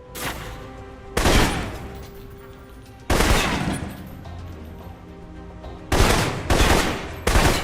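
Assault rifle fire in the video game Alpha Protocol: loud automatic bursts of about a second each, separated by quieter gaps, with several rapid bursts bunched together near the end.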